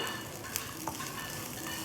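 Steady soft sizzling of grated coconut sautéing in a pan, with a couple of faint stirring clinks partway through; no talking.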